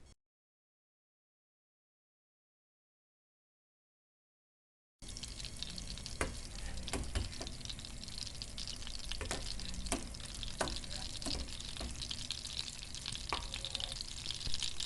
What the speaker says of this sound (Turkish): Ayrı bir tencerede bir yemek kaşığı tereyağını eritiyorum.